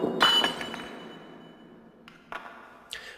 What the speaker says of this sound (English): As the glass smashed on the floor,